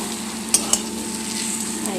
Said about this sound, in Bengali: দেখো আলু ভাজাটা একটু লাল লাল করে ভাজবো